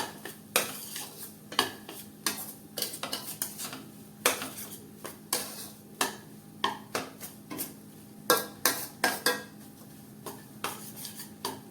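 A metal spoon scrapes and clinks against a pan while thick Gujarati milk sukhdi, with roasted cashews, almonds and coconut, is stirred off the heat. Irregular close-up clatters repeat over a quiet background, with no voices.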